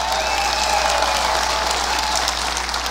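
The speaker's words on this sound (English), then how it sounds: "Don't applaud, you never saw her" Live comedy-show audience in Arizona applauding and cheering, a dense, sustained roar of clapping from a large crowd that stays loud and even throughout.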